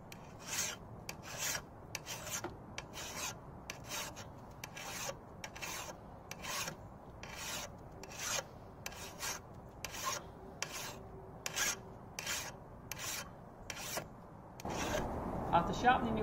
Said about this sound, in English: After sharpening your tools with a file, you may wish to use a sharpening stone to get the final edge finish.